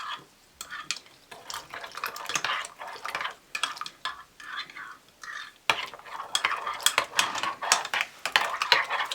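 Spoon stirring about three tablespoons of yeast into liquid in a bowl until it dissolves, a steady run of soft scraping and light clinking strokes that pause briefly midway, close and fairly quiet with no talking.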